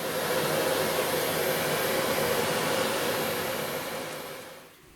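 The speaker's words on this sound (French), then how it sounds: "Les chiots s'habituent de plus en plus au bruit de l'aspirateur" A household vacuum cleaner runs with a steady, loud whooshing drone near a litter of Czechoslovakian wolfdog puppies, then winds down and fades in the final second.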